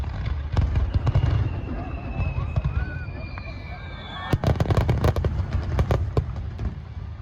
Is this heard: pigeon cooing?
no